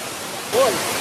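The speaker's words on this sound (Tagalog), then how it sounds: "Kaparkan Falls, sulit." Kaparkan Falls in Tineg, Abra, gives a steady broadband roar of falling water that swells midway, with a brief voice call rising over it.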